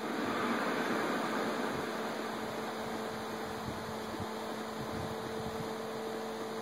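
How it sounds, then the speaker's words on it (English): Roaring fire ambience from Iron Keep in Dark Souls II, a steady broadband rush with a low hum running under it, holding at an even level throughout with no voices. "And then you hear that flaming noise."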